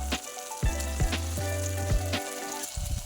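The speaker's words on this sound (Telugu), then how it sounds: "కాబట్టి ముందుగా కట్ చేసిన టమాటాలు వేస్తాము. బాగా వేయించాలి." Chopped tomatoes sizzle in a frying pan, with bright frying crackle and intermittent clinks and scrapes of stirring, close and moderately loud with no talking.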